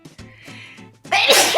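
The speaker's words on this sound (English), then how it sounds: "I'm going to sneeze." A woman sneezes once, loud and close, a sudden burst following a few seconds of quiet indoor rustling and breathing.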